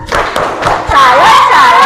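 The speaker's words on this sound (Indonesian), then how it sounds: "Kasih tepuk salut lagi. Tepuk salut." A primary school class gives a rhythmic tepuk salut clapping cheer, a burst of claps and thumps building into loud group chanting voices that carry on to the end.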